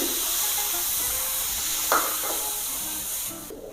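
Liquid milk poured into semolina that has been fried in a pan, a steady hissing sizzle with a brief splashy burst near the middle, fading toward the end, close and unaccompanied by talk.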